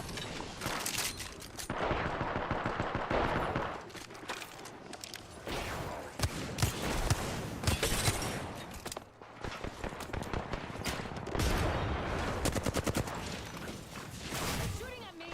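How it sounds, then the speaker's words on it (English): Rapid bursts of gunfire fill a round of the battle royale shooter Apex Legends, with dense automatic volleys and scattered single shots running almost continuously, loud and close, with game sounds layered underneath. "Shooting at me."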